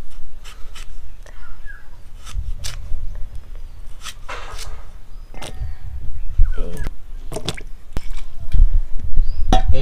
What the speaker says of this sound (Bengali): এবারে আলুটাকে জল দিয়ে ভালো করে একদম ধুয়ে নিতে হবে।